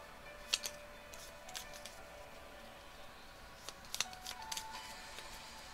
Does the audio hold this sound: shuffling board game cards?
yes